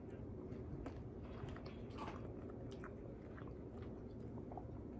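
Someone eats Popeyes fries with ketchup and barbecue sauce, giving close, steady chewing and biting with small crunches, over a constant low background and light voice sounds.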